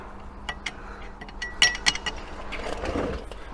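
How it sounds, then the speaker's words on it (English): Metal bolt being fitted to a Volkswagen T25/T3 camper exhaust adapter plate, a few bright clinks and taps of metal on metal with faint scraping, close and irregular. "now this is the first bolt I'm putting in"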